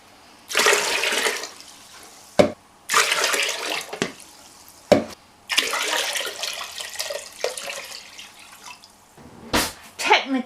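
Tap water runs in several bursts into a container being filled with a gallon of water for homemade ginger beer, splashing loudly and close, with clunks and short gaps between pours.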